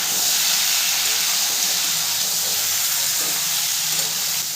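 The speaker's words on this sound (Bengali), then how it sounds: "গ্যাসের ফ্লেমটা লোতে রেখে কুলটাকে আমি নেড়ে চেড়ে ভালো করে ভেজে নেব" Jujube (kul) fries with turmeric in a pan over a low gas flame, making a loud, continuous close-up sizzle and hiss as it is stirred.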